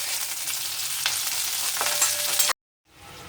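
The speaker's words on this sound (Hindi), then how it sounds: "अब शिमला मिर्च, इन्हें हम बहुत देर तक फ्राई नहीं करेंगे, हल्का सा" Capsicum fries lightly in a kadai with a continuous close sizzle and a couple of soft stirring knocks, then cuts off abruptly before a fainter hiss returns.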